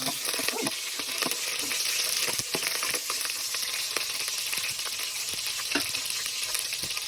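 Ginger sizzling in hot oil in a heated pan, a steady close crackle with scattered sharp pops and occasional stirring scrapes, no voices.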